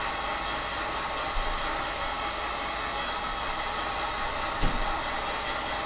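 A heat tool blows hot air steadily onto a section of PVC pipe being softened for shaping, a constant broadband hiss throughout with a brief bump partway through.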